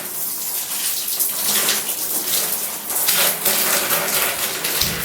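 Running tap water wets hair, heard as a continuous close splash and gush with shifting spatter as the flow hits the hair; no one speaks.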